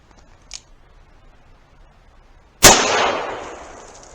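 A single sharp gunshot from a Colt Trooper Mark III revolver firing a .38 Special load, loud and close, with a decaying ring afterward and a faint click just before it.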